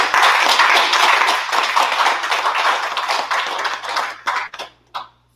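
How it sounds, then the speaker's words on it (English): Audience applause after an introduction at a women's empowerment event: dense, loud clapping from a sizable crowd that holds steady, then thins into a few scattered final claps and stops. "Can we give a round of applause?"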